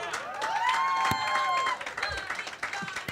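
A crowd at a live event with a host on stage breaks into applause and cheering, steady broadband clapping with whoops over it, a voice briefly rising above the noise before the clapping thins out.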